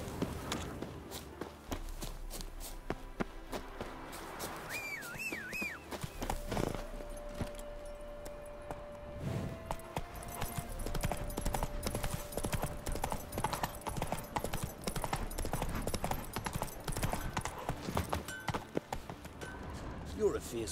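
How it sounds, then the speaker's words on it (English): Horse hooves clip-clop steadily in The Witcher 3, with footsteps and faint jangling under game music and spoken dialogue. "Heavily laden horse."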